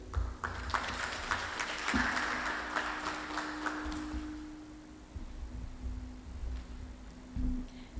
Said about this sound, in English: one more round of applause for Minister Grant